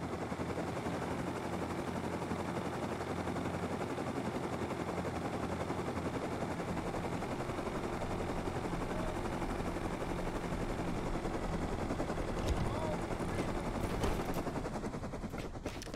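Sustained automatic gunfire in the survival game Rust, a dense continuous rattle of rapid shots layered with distant firing, steady and loud throughout with no voices.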